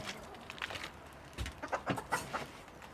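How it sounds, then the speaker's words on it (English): Bantam hens and chickens cluck in short, uneven bursts at close range, mixed with soft scuffling movement and no speech. "every morning when I come back to feed the hens, the bantams and the hens"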